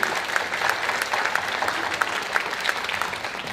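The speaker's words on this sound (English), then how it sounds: "We give a round of applause for our parents and our grandparents and aunts and uncles and everybody else in the audience" An audience at an honor society induction ceremony applauds steadily, a dense field of many hands clapping at moderate distance with no break for several seconds.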